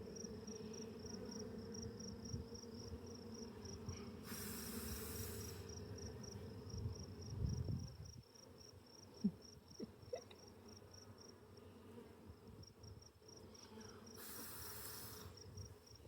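A steady, low insect hum from many honeybees in a hive fills the clip, with a faint high-pitched whine running through.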